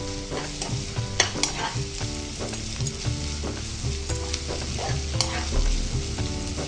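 Long-cut, deseeded capsicum stir-frying in a pan on full gas, with steady sizzling and repeated scraping stirs that keep a busy, close rhythm throughout.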